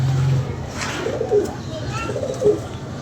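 A green pigeon gives two soft, low coos about a second apart, close by over a steady background hum.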